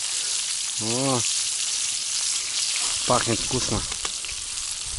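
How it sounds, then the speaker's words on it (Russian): Fish frying in oil in a good pan outdoors in the taiga, a steady loud sizzle throughout, with brief talking over it. "масло и рыба. Хорошая сковородка, тут все нормально."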